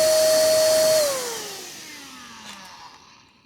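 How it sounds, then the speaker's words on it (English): An air pump blows air toward the intake of a GreenStove Hori5 stove, a steady loud whine that drops in pitch and fades away after about a second as the pump winds down. "Using an air pump to simulate strong wind blowing toward the air intake"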